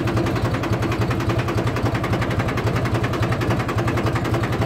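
Mahindra 265 tractor engine left running after failing to shut off, giving a steady rhythmic chugging with a fast, even beat and continuous mechanical clatter.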